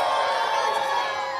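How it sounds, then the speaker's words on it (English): An audience of boys at a stage comedy show cheers and shouts together in a dense, sustained roar that fills the whole moment. "Can I get all the boys to give me the biggest cheer?"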